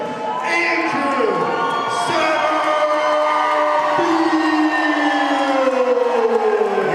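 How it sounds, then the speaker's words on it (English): Crowd cheering for hometown fighter Andrew Satterfield of Parkersburg, West Virginia, at a cage fight, a loud sustained roar of shouts and whoops with rising and falling voices, continuing steadily for the whole stretch. "Hear that crowd cheering for the hometown guy, man."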